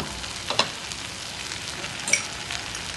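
Mixed vegetables sizzle steadily in a hot pan in a Jain-style mix veg made without onion or garlic, with a few soft scrapes of stirring across the frying.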